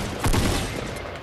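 A close, loud burst of rapid Fortnite gunfire cracks out, its shots blurring into a short fusillade that tails off within about a second.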